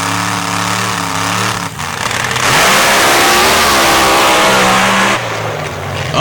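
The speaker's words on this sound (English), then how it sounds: "Nightmare 7 lining up with that 500 cubic inch engine" A drag racing car with a 500 cubic inch engine revs loudly and then roars hard as it accelerates away, a very loud, close, sustained howl that drops off abruptly.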